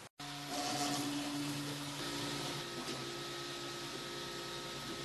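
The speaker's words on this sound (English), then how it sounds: "we are now finally ready to start printing" A 3D printer runs steadily while printing a cat figure, giving a close, even mechanical whine with sustained motor tones that shift in pitch partway through, heard alone without speech.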